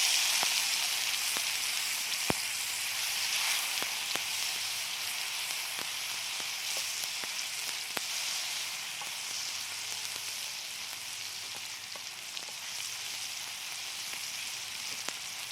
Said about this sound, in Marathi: एक टमाटर चिरून घेतलेलं आहे ते त्याच्यात टाकते.